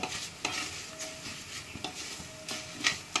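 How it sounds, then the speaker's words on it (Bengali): Dry mung dal scraped and stirred in a hot pan with a faint sizzle, the spoon striking the pan in irregular strokes. "মুগের ডালটা একটু ভেজে নেব।"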